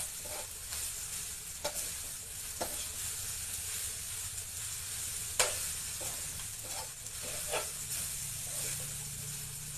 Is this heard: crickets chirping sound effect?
no